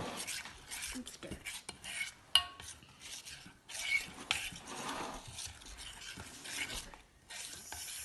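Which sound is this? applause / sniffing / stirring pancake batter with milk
stirring pancake batter with milk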